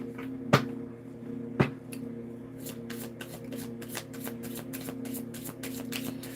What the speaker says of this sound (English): Okay, I'm going to shuffle one time and pull one card